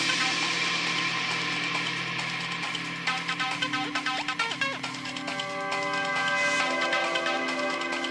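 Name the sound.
reversed bell sound in an acid techno track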